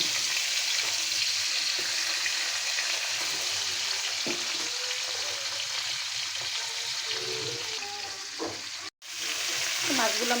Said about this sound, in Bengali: মাছগুলো হলুদ মাখানো হয়ে গেছে, আমি এক এক করে এটা ভাজে নেব।